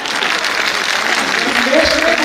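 Crowd applause from an audience at a political speech, a dense, steady wash of clapping filling the whole stretch, with a faint voice rising near the end.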